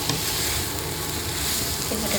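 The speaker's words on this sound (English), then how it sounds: "At this point I'm putting in all my broccoli." Broccoli stir frying in a hot pan for a vegetable Thai green curry, a dense constant sizzle heard close up and alone.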